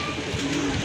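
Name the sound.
Lal Rajgolla pigeon cooing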